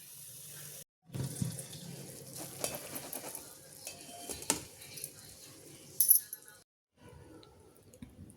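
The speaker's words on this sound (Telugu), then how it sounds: "మిల్ మేకర్ ఇప్పుడు స్టెయిన్ చేసుకుందాం అండి ఒక స్టెయినర్లో వేసుకొని" Water pours and splashes through a strainer from soaked soya chunks in uneven bursts, briefly stopping partway, close by in a quiet kitchen.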